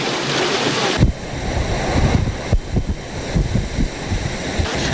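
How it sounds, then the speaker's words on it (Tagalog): Storm surge waves from Typhoon Pedring pound Manila Bay along Roxas Boulevard, a loud continuous roar of crashing surf and heavy wind buffeting the microphone, with repeated thudding impacts and no voices. "Ang storm surge na yang dulot ng Bagyong Pedring sa Manila Bay nagdulot ng pagbaha"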